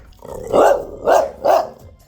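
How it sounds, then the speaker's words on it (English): A dog barks three times in quick succession, loud and close, with short pauses between the barks. "Why are you barking?"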